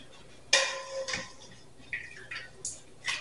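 Metal ladle clinking and scraping in a pot of French garlic soup, a few irregular knocks and clatters, one sharp clank then softer taps, close and moderately quiet.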